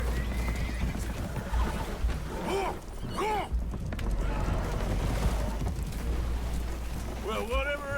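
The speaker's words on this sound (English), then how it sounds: "Horses are spooked, and we're taking on water." Spooked horses in Red Dead Redemption 2 whinny and neigh loudly several times aboard a damaged boat taking on water, with hoof clatter, splashing and a voice speaking over the commotion.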